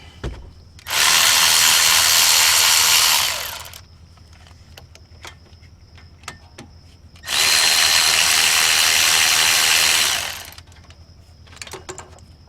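Impact wrench or power tool loosening two 14 mm brake caliper bolts on a 2014 Chevy Malibu, two loud sustained bursts of about three seconds each, separated by quieter clinks and handling noises.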